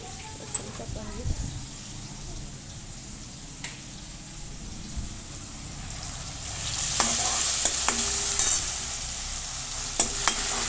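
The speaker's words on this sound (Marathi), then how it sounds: "छान असं टोमॅटो परतून घ्यायचा" Tomatoes and green chillies sauté in a pan, a low steady sizzle with occasional spatula scrapes and knocks that grow louder and hissier partway through, under a voice talking.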